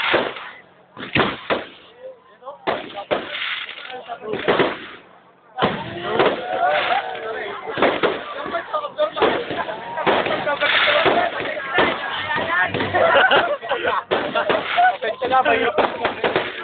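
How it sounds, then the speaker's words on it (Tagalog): Loud, irregular bursts of New Year firecracker pops crackle through the whole stretch, sparse at first then dense and continuous, with voices mixed in. "Yan lang paputok namin!"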